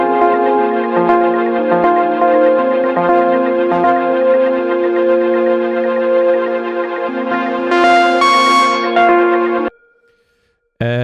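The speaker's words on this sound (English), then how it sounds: "in break or build up parts we have more pads." Layered synth pads from an afro house track's break section, built in Ableton, hold a bright, sustained chord wash with bell-like shimmer. A swell near the end gives way to abrupt silence, with no voices.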